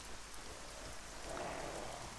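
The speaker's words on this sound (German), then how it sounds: "Deswegen finde ich Regen so richtig scheiße." Steady rain falls in the fantasy role-playing game Arcania Gothic 4, a dense continuous hiss of drops on surfaces, even and unbroken throughout with no voices.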